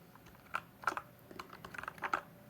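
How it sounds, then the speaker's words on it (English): Crisp, close keystrokes on a blue and white mechanical computer keyboard, typed in an irregular quick rhythm of sharp clicks, soft and alone without talk. "It makes great keyboard sounds just by itself, straight out of the box."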